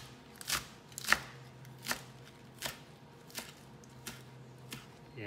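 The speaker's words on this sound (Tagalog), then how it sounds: "So, una, hiwain natin yung lettuce." A knife chops romaine lettuce on a cutting board in a home kitchen, giving about eight separate, evenly spaced soft thuds, quiet and close with no talking.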